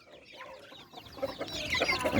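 Chickens cluck and chatter close by, several birds overlapping, growing busier and louder toward the end.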